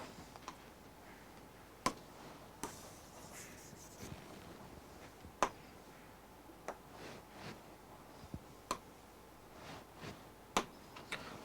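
Chalk or a marker writing a line on a classroom board produces scattered sharp taps and short scratchy strokes, faint and spaced irregularly in a quiet room.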